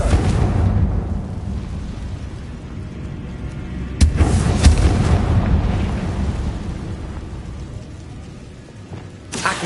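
A Confringo fire spell detonates in Hogwarts Legacy, heard as a booming, rumbling blast that sustains its roar, with a sharper second burst near the middle and a brief crack at the end.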